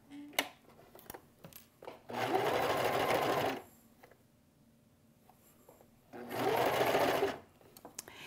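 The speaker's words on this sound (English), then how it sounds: "So I've just sewn over my leader fabric and now I'm ready for my first curve again." Domestic sewing machine stitching a curved quilt block seam, two bursts of rapid close whirring, each about a second and a half long, separated by quiet handling and light tapping sounds.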